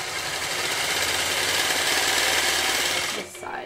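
A sewing machine stitching along a quilting ruler, a fast steady whirring buzz close up that runs continuously and then stops abruptly near the end.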